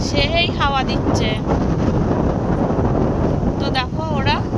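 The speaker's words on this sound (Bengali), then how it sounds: "সেই হাওয়া দিচ্ছে।" Strong sea wind buffets the microphone on the beach at the Digha estuary, a constant loud roar with no breaks. Voices come through faintly in the background.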